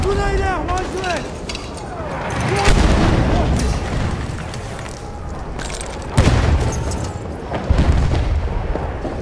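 A grenade explodes in Battlefield 1 during a fight over a captured objective, sounding as a deep boom followed by more heavy blasts and gunfire, while radio-style voices call out over the battle.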